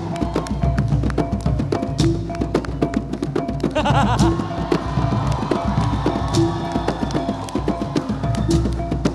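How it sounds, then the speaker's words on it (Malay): Theatre audience at a Mek Mulung performance clapping and cheering loudly, dense rhythmic applause with whoops and shouts throughout, accompanied by steady music tones underneath. "Tuan-tuan dan puan-puan, tepukan gemuruh untuk inang-inang istana."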